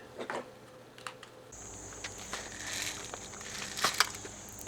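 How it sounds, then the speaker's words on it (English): Airsoft BBs are loaded into an Angel Custom 1500-round Thunderstorm drum magazine, giving close, quiet plastic rattles and small clicks, with a faint high-pitched hiss running under the second half. "I'm going to put BBs in the drum mag"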